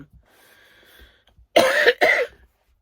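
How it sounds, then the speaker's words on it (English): Two harsh, loud coughs close together, following a few faint quiet moments, with no talking. "So I've just had a bit of a coughing fit"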